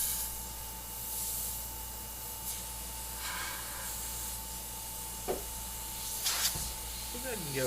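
An airbrush sprays paint in a steady, close hiss for several seconds while a person talks over it, ending in a few brief bursts.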